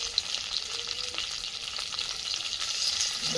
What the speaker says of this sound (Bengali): আগে মাছটা ভেজে তরকারিটা করি